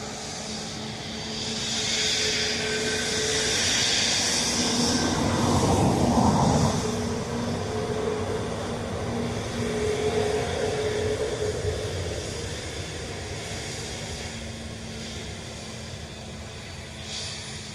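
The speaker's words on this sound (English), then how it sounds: "Ryanair from Edinburgh almost down." Ryanair airliner arriving from Edinburgh on final approach to Dublin Airport, a broad steady jet roar that swells around the middle and eases off, heard from a distance against constant ambient noise.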